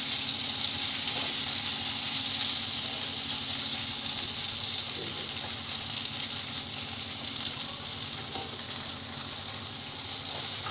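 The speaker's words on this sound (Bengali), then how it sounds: "এই টমেটোটাকেও এর সঙ্গে হালকা ভেজে নেব।" Sliced tomato frying in a pan over a medium gas flame for masala chicken, a steady, fairly quiet sizzle with occasional faint stirring clicks.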